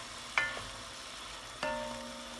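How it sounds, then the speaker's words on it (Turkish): Steady sizzling of beef frying in melted butter in a pan, with a couple of sharp clicks or scrapes as the meat is turned. "Şöyle 4-5 dakika etlerinizi hazırlamış olduğumuz o eriyen tereyağın içinde"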